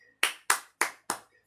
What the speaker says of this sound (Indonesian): Berikan tepuk tangan untuk kedua kelompok pada hari ini